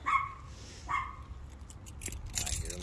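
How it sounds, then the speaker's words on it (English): A small dog barks a few times in the distance at an outdoor yard sale, two short yips near the start and faint under background noise. "I hear a little dog."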